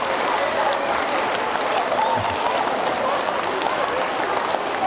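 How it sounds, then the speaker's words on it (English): Middle school students clap steadily in an assembly room, a dense, continuous round of applause mixed with a murmur of kids talking at the same time, filling the space at an even level. "I love the kids that clap and talk at the same time."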